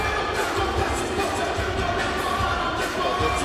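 A dense arena crowd roars and cheers for fighter Thiago Michel at a kickboxing event, a loud continuous wash of voices at steady intensity throughout.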